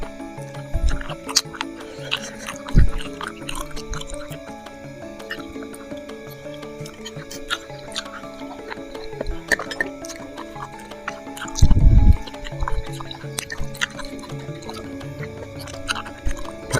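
Wet chewing and swallowing of spicy seblak cobek, the Indonesian dish of crackers and toppings in a chili sauce, close to the mic, with squishy smacks, drips and a louder swallow near the end.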